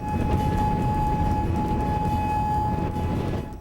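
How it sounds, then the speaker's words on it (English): A steady, droning tornado warning siren in Moore, Oklahoma holds one sustained tone over a constant rumble, continuous and fairly loud throughout. "If you've never heard a tornado siren, it is one of the scariest and eeriest sounds that you can hear."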